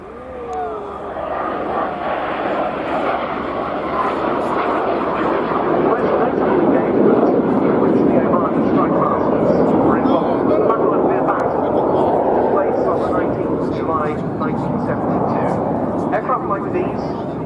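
A Strikemaster jet flying a display at an air day with nose lights and smoke on, a loud sustained engine roar that swells and holds as it passes, with a commentator talking over it throughout.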